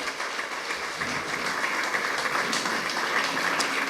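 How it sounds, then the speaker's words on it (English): An audience claps steadily for staff members at a live community gathering, a dense, even wash of many hands close by that holds at a constant level throughout, with no voices standing out. "Let's clap for them"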